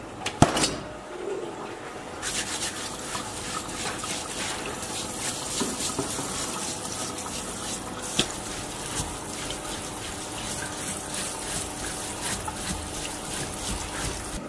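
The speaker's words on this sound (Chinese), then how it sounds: "然后用清水啊去洗一下。" Burnt pork skin rinsed under clean running water, a steady close splashing and trickling stream that continues without pause and with no talk.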